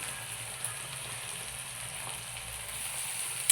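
Chopped tomatoes with salt fry in a pan, making a faint, even sizzle throughout, with a small clatter at the very end and no speech.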